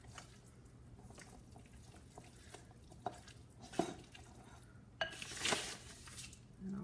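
Hummus gets mixed in a bowl for a Mediterranean tuna wrap, with quiet scraping and clinking of a utensil against the dish over faint kitchen background.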